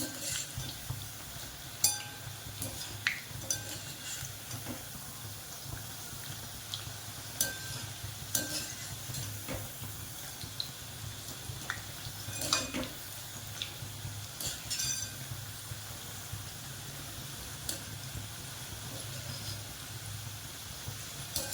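Cabbage manchurian frying in hot oil gives a continuous close sizzle and bubbling, with occasional clinks and stirring scrapes of a utensil against the pan.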